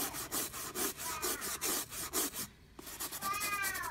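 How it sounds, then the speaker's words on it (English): Rapid back-and-forth scrubbing on the fabric of a sky blue Fjallraven Kanken Mini backpack being spot cleaned of chalk dust, a steady close rhythmic rubbing with a brief pause near the end, no talk. "So I'm just gonna spot clean it."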